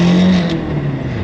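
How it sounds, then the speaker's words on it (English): A Nissan 240SX drift car's turbocharged engine accelerates loudly up close in a short burst, its tone climbing and then settling into a steady drone. "I'm gonna roll the window down, see if we can hear some turbo noises."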